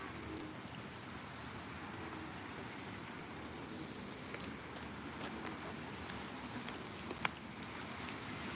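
Steady rain falling outdoors during catfish fishing, a dense continuous hiss with occasional faint droplet ticks and no voices.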